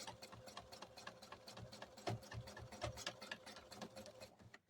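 A home sewing machine stitching free motion quilting on flowers and vines, a quiet, close, rapid mechanical clatter with uneven bursts as the fabric is moved by hand.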